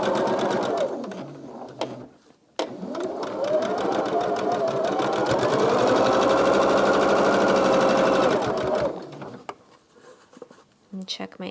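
A sewing machine runs the final seam of a quilt block, whirring in a short burst, pausing briefly, then humming steadily for several seconds before slowing and stopping, with faint handling clicks around it.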